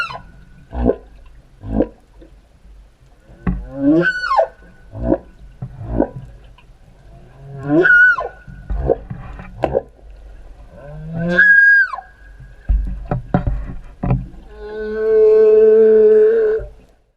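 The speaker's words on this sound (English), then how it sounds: "80-foot-long fin whales, second only in size to the blue whale, can make low-frequency moaning sounds beyond the range of human hearing" A sequence of fin whale moans in a quiet underwater setting, with rising, wavering tones and short clicking pulses, ending in a long, steady tonal note.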